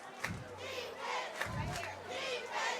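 A full stadium crowd at a high school football game, Gadsden County at Florida High, roars and chants in rising surges, loud and reverberant, with a few sharp shouts cutting through.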